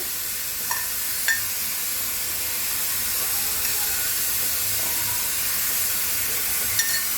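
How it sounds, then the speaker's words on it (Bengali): Oil heating in a hot kadai on a stove gives a steady broadband hiss and faint sizzle, with a few small clinks, continuous and moderately quiet throughout. "কড়াটা গরম হয়ে গেছে, এর মধ্যে আমি তেল দিচ্ছি।"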